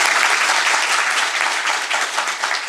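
Audience applause at an institute event on press freedom and free speech, a dense, loud burst of clapping filling the whole moment without speech.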